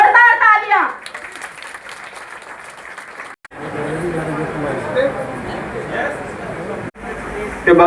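Applause breaks out from an audience at a poster launch for a new Garhwali film in New Delhi, with a burst of sustained clapping after a voice over a brief musical sting, steady and fairly loud throughout.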